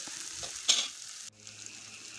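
Ground roasted coriander powder dropping into a hot, sizzling pan for Kerala chickpea curry (kadala curry), with a steady frying hiss, a brief stirring scrape, then a softer sizzle.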